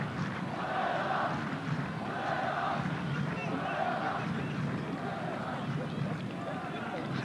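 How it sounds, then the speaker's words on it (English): A large football stadium crowd at an Asian Champions League match chants in a steady repeated rhythm, the distant massed voices pulsing in regular phrases beneath a continuous roar. "There's the crowd chant QAT's name."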